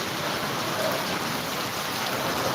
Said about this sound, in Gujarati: અત્યારે જામકરણામાં ધોધમાર વરસાદ